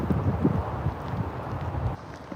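Wind blows outdoors on a walk, buffeting the microphone with a continuous low rumble and gusty noise throughout.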